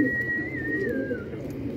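A pigeon coos nearby, a soft, low, throaty burble that is steady over a short stretch, with a faint high whistle-like tone above it.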